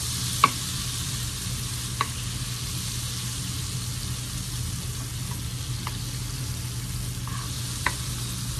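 Butter melting in a pan for a simple shrimp dish, giving a steady soft sizzle with a low hum beneath and a few faint clicks of utensils, no talking.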